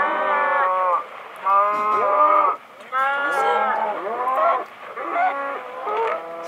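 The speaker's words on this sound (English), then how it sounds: "spawn a bunch of cows" Several drawn-out cow moos from the video game Minecraft follow one another, loud and close, each a low sliding bellow separated by brief pauses.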